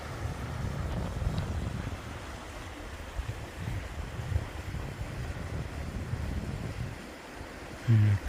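The South Fork of the Kern River flows as a low, steady rushing murmur heard from a distance along a trail, with a little wind buffeting the microphone and no one talking.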